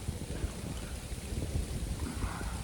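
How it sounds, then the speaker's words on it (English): Steady rain falls during a hail storm in the Rocky Mountains, a dense continuous patter with low rumbling underneath, close and even throughout with no talking. "The rain was supposed to be here about 2, and it's done beat me here."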